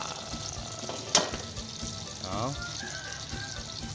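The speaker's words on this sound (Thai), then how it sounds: "ทอดให้มันกรอบๆหน่อยหนึ่งพี่น้องเอ้ย" Cicadas frying in hot oil until crispy for an Isan dish, with a continuous moderate sizzle, one sharp clank and occasional stirring noises, and a brief voice in the background.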